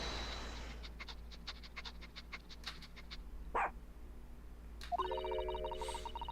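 A dog in The Great Ace Attorney game gives a quick run of short, faint yips over a low hum, then a single sharper bark and a bright chime.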